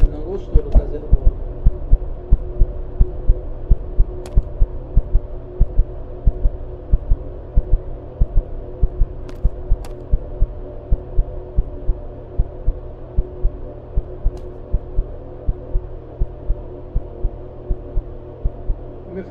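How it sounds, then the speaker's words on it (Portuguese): Steady in-game heartbeat from the horror ghost-hunting game Ghost Exorcism Inc, a regular thumping pulse repeating throughout over a low droning hum, with faint voice sounds now and then. "Tem um pouco para parar os batimentos cardíacos"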